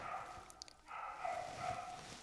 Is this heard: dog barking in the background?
yes